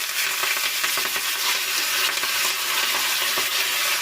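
Drumstick leaves frying in a pan for a chutney: a steady, dense hiss and crackle of sizzling oil, close and continuous with light stirring.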